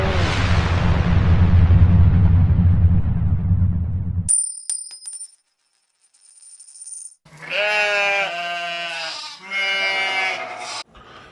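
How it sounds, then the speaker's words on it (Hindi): A bleat in a dramatized Hindi ghost tale, from a man turned into a goat, wavering and harmonic, rising loud after a burst of rumbling noise and a brief bell-like chime, with a second bleat following. "प्रेतराज ने उसे अपनी शक्तियों से बकरा बनाकर कैद कर लिया"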